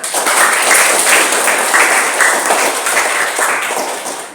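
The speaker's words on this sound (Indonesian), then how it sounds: "Terima kasih, tepuk tangan." Classroom applause during a teacher's performance assessment lesson in Indonesia, a steady burst of hand clapping from a group of students that stays loud and dense throughout before tapering slightly at the end.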